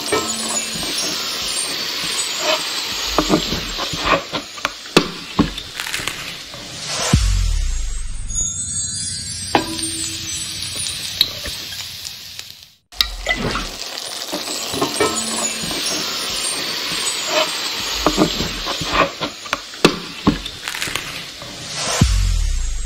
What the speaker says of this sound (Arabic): طبعا هنا الصوص هنا وصل للغليان، خلاص راح نطفي عليه